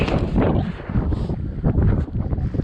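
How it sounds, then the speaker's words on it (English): Strong gusting wind buffets the microphone outdoors at an icy wilderness campsite in falling temperatures, a continuous loud low roar swelling and easing in waves, with no voices. "Wind's starting to pick up"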